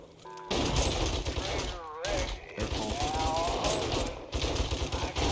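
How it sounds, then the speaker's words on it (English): Sniper rifle fire in the survival game 7 Days to Die rings out in rapid bursts of overlapping shots, a dense fusillade running almost continuously, with voices talking over the gunfire. "And let our snipers do their work."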